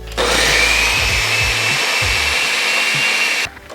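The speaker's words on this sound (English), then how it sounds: "I'm gonna start with just a couple pulses, make sure everything gets mixed together nicely, and then I'm gonna turn it on low speed" A blender whirs steadily at high power while mixing pistachio shortbread cookie dough, loud and continuous for about three seconds before cutting off abruptly.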